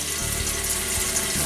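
Tap water pours steadily into a large canning pot for a water-bath canner, a continuous close rushing splash with no talking.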